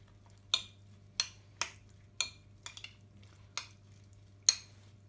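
Balsamic vinegar and olive oil being stirred together in a dish, a series of about eight sharp, separate clinks and scrapes of utensil against the bowl, close and clear in a quiet room with a low hum.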